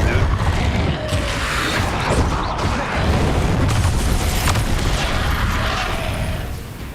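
Incendio fire spell cast in Hogwarts Legacy, a loud roaring burst of flame with rumbling booms and crackling that fills the whole stretch.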